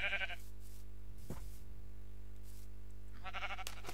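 A sheep in the video game Minecraft bleats twice, a clear nasal call at the start and again near the end, over a steady low electrical hum, with faint thumps between.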